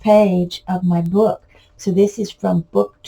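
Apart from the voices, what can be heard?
No distinct noise like a dog, phone or traffic.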